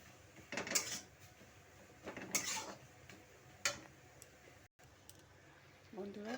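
Spices with chilli powder, Kashmiri chilli and a little sugar are stirred in a cooking pan, several distinct scraping strokes against the metal with quiet gaps between, and a voice briefly at the end.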